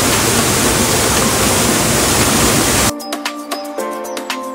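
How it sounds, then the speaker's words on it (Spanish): A waterfall roars as a loud, dense wash of falling water, then abruptly drops to a much quieter background. "Estamos en la tercera cascada"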